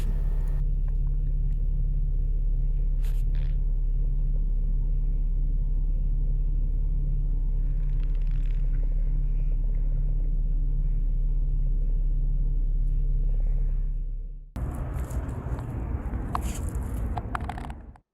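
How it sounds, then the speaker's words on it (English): A 1992 Mercedes 600SEL idling steadily with a deep continuous rumble, close and loud, then a brief dip before the engine note resumes at the end; no talk. "fired up the car"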